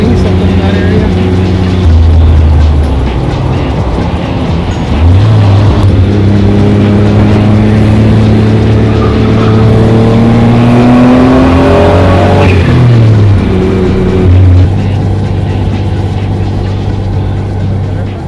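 A kei car engine of roughly 1,900 pounds revs up and down several times, its pitch rising and falling in loud close sweeps over a steady idle.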